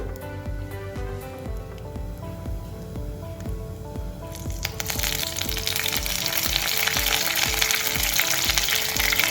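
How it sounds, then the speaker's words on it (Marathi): Mustard seeds and curry leaves crackle and spit in hot oil for a traditional Malvani/Goan potato bhaji tempering, a dense close sizzle that grows louder and brighter partway through, with a steady low rumble beneath and no talking. "बघा कसो मस्त आवाज येत असा फोडणी तडतडण्याचो"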